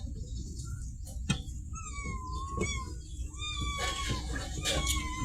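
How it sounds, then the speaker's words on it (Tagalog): A cat meows several times in drawn-out, wavering cries over a low rumbling background, fairly close and moderately loud. "Sumisingit yung pusa namin."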